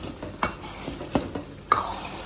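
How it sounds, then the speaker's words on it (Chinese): A spatula scrapes and clinks in a pan as chives are stirred into a thickened tofu sauce, with a few distinct knocks over a soft sizzle, close up and without talking. "搅拌一下就行"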